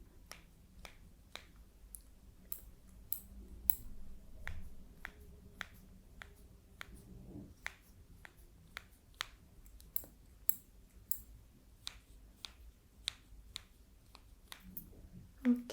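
Hair being cut with scissors in a soft-spoken ASMR hairdresser roleplay, heard as a steady series of crisp, close snips in an even rhythm, about two per second, with no talking over them.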